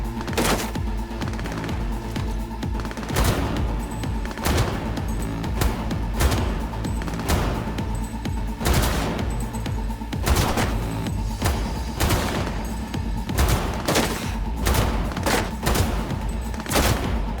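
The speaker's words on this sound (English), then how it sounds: "I'm just gonna keep shooting him from here until he's dead." Rapid automatic gunfire rattles in a firefight in the video game Cyberpunk 2077, with dense bursts and single shots repeating steadily throughout, loud and close, mixed with heavier impacts and no voices.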